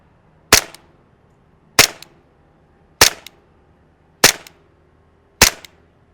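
A Sig Sauer P229 airsoft pistol fires green gas BBs through a chronograph. Five sharp, loud, evenly spaced shots ring out about a second apart, each with a short metallic tail.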